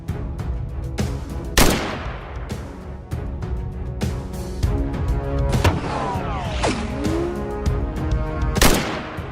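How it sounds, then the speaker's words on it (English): Rifle gunshots from a wild boar hunt, several sharp loud cracks spaced irregularly over outdoor ambience, with a whining squeal sweeping in between shots. "I immediately fired, taking down one boar, while my teammate simultaneously dropped the other"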